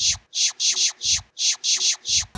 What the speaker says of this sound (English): At this screen, you'll hear your smartphone making a sound like this.